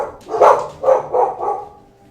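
A dog barks four or five times in a quick uneven run, close and fairly loud, with no other sounds.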